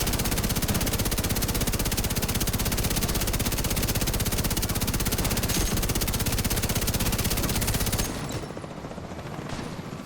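Bullet King exotic machine gun in Division 2 firing one continuous, unbroken burst for about eight seconds, a dense rapid rattle that cuts off abruptly into quieter game ambience.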